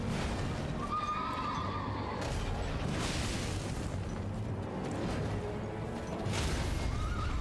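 A horse neighs loudly in Elden Ring amid steady game noise and rumbling booms, with a whinny rising near the start and another near the end, and hoof clip-clop mixed in.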